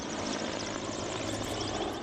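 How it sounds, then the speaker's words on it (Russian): A Mi-8 helicopter flies overhead with a steady, loud rotor and engine roar that holds constant throughout, with no talk over it. "Сейчас в небе легендарный Ми-8"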